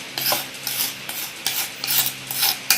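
Instant mango pickle being stirred in a pan produces a series of distinct scraping strokes with short pauses between them, close and fairly loud over a low sizzle, with no one talking.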